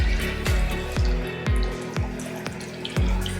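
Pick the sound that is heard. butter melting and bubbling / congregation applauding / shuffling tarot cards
butter melting and bubbling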